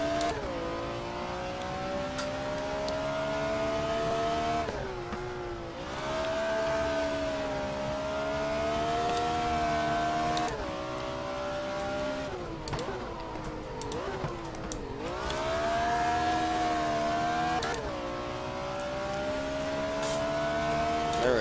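Engine of a BMW race car in the Race07 game, revving up through gears with repeated rising pitch sweeps and shifts, loud continuous drone with a faint voice occasionally underneath.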